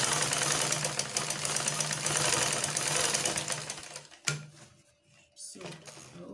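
A sewing machine stitches the side seam of a shift dress, running in a steady, loud mechanical whir for about four seconds, then stopping abruptly, with a brief restart and quieter handling sounds afterward.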